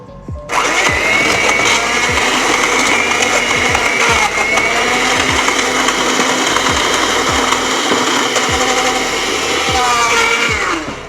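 An electric mixer beating butter for blueberry muffins runs steadily and loudly for about ten seconds, with a constant motor whine and repeated rhythmic knocks as the beaters hit the bowl.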